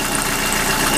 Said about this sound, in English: It's a Beta 43. Lovely, massive engines.